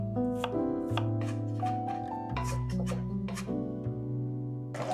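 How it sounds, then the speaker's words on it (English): Steady knife chops through half a white onion on a board, close and rhythmic, over sustained background music. "we can prep our onions, and I'm using half of a white onion"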